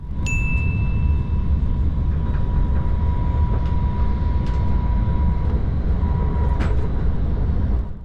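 Steady rumble of a train running, heard from inside a carriage, with faint chimes and clicks over the constant drone.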